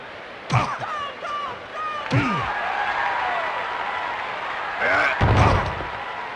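Capacity arena crowd in the WWF War Zone wrestling video game, a steady roar of cheering with sharp impact thuds and commentator-like voice bursts over it, loud and continuous throughout.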